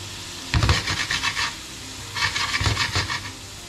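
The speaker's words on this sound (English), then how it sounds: "So I'm gonna deglaze with lime." A pan hisses and sizzles while it is deglazed with lime, in two bursts of rough crackling and scraping. Each burst is loud and near, and a quieter pause separates them.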